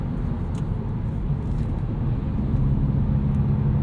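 Heard from inside a Hyundai Veloster N on a night drive, the engine and exhaust give off a constant low droning rumble mixed with road noise, unbroken and fairly loud, with no talk.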